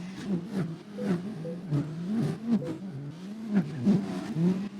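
Suzuki K cars racing in Gran Turismo 4, small engines revving and rising in repeated bursts as the cars accelerate through gears, moderately loud and close, with no voices.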